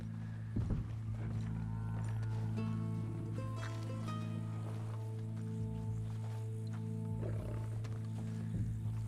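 A lion roaring in the Red Dead Redemption 2 video game, a few deep, rough roars rising over a steady low in-game drone, with a faint clatter of footsteps or hooves underneath.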